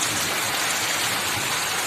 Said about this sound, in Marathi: रिमझिम रिमझिम पावसाच्या धारा